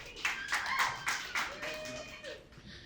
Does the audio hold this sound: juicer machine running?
no